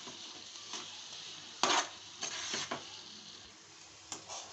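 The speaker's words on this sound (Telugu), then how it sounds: "ముందుగా వేయించిన బాదం జీడిపప్పు వేసి బాగా కలిపెట్టుకోవాలి" Spoon stirring beetroot halwa in a pan with fried almonds and cashews, giving quiet scrapes and a few sharper clinks against the pan over a soft, steady sizzle.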